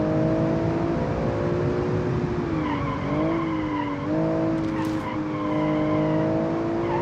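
Engine of a Boxer 6 twin turbo car with manual gearbox racing at Atlanta Road circuit in BeamNG.drive, a loud continuous drone with rising and falling revs through gear shifts and brief tire squeals.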